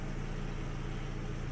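Fiat 500 engine left running, a faint, steady low idle hum with an even tone throughout and no voices.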